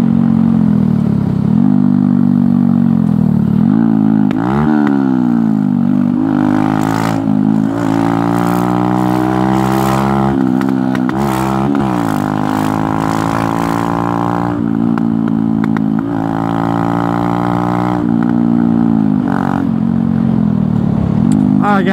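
A Honda Grom motorcycle riding on a freeway: a loud, close engine drone rising and falling in pitch as it revs and shifts, with steady wind roar throughout.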